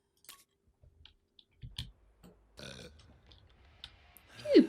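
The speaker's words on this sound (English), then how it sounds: "You burped. That was nasty." A patient in the hospital video game Two Point Hospital lets out a single short, gurgling burp near the end, after a stretch of quiet game clicks and small interface sounds.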